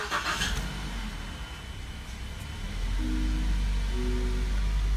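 A Mazda 3 engine with a newly replaced side motor mount cranks and starts around the three-second mark, then settles into a steady, fairly loud idle nearby with low harmonic hum.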